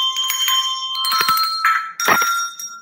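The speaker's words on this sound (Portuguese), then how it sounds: "sininhos sonoros, onde cada sino, ele tem o som da nota" A set of tuned musical bells, each bell sounding its own note, used for children's music lessons: several close, bright strikes ring out in quick succession and overlap with shimmering, sustained overtones, with no talking.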